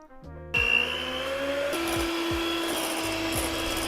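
A kitchen mixer whips cream toward stiff peaks, a sharp clatter at the start giving way to a steady motor whir with a few soft knocks as the bowl is worked.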